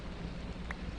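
Rain falls in Minecraft (Pixelmon modpack) during a live stream, a soft, steady hiss of drops at low volume with nothing else standing out and no speech.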